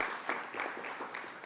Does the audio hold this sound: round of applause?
yes